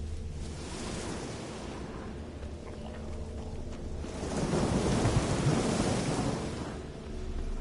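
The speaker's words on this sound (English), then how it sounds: "A storm, damn it." A rolling thunderstorm in The Witcher 3, with low, sustained rumbling under steady rain that swells into a heavier, louder rumble midway before easing off.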